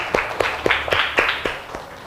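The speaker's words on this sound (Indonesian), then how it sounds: "Tepuk tangan buat temannya." Classroom applause for a student who has just answered: scattered hand claps in a brief, uneven burst with several sharp individual claps, fairly close.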